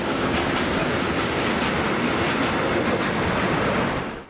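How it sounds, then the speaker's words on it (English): A Trenitalia passenger train of the Italian national railway passes steadily near the tracks in the Cremona countryside, a loud continuous rumble with rail clatter that holds throughout before easing off at the end. "And there goes a Trenitalia in the other direction."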